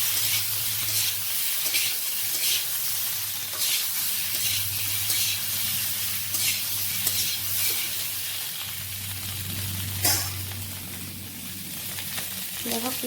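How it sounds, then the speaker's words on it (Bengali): Potato pieces fry in hot oil in a kadai with a little salt and turmeric, a steady close sizzle with occasional crackles and a low hum underneath, no talking. "অল্প নুন, অল্প হলুদ, লাল লাল করে আলুগুলো ভেজে নেব।"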